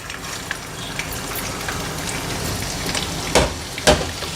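Ginger crackles and spatters in hot ghee mixed with oil, a dense rain-like patter of small pops with two sharper, louder bursts near the end; no voices.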